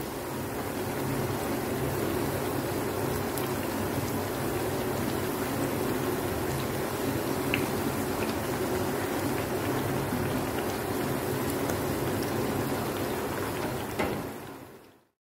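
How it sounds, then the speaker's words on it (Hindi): Slices of bread frying in hot oil, a steady dense crackle and fizz holding even and close throughout, then cutting off abruptly at the very end. "अब इसमें मैं ब्रेड डाल दूंगी और ब्रेड को हमने दोनों तरफ से गोल्डन ब्राउन फ्राई करना है"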